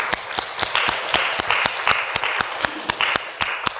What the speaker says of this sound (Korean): 우리 하나님께 영광의 박수 한번 돌립시다